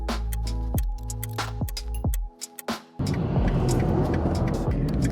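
A car driving along a road heading into a forest near dusk in Poland, with engine hum that rises and falls through gear changes, a brief quieter dip, then steady louder road and tyre roar.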